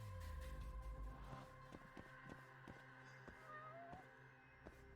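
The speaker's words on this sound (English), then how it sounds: "There's a cat somewhere." A cat in the video game Judgment meows faintly, with a few short rising cries over a quiet game background of low hum and soft clicking footsteps.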